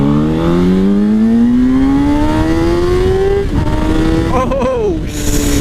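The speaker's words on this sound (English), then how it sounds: "I'm gonna go ahead and do a first gear pull, let it rev a little high, hear what it sounds like." A car fitted with a swapped-in Suzuki GSX-R motorcycle engine pulls hard in first gear, its high-pitched engine note climbing steadily to a high rev, then wavering as the throttle shifts, loud and close.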